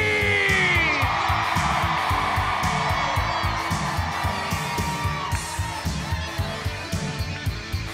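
A large crowd at a Relay For Life summit roars with screams, whoops and cheers, loud and sustained at first, then gradually easing into scattered shouts.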